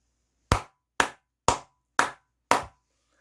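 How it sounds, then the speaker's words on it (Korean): Five sharp hand claps ring out one by one at an even, unhurried pace as birthday applause, close and crisp with silence between each clap and no voices. "우리 모두 생일 축하의 박수를 보내드리면 어떨까 싶습니다."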